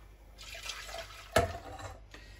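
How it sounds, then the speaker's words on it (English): Crème pâtissière custard mixture pours into a saucepan in a soft, continuous liquid stream for about two seconds, with one brief, louder clunk of the container against the pan partway through. "The mixture is transferred to a saucepan"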